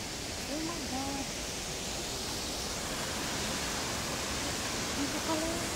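A waterfall on a river near Aichi, Japan, giving a dense, steady rushing roar throughout, with a voice speaking briefly over it.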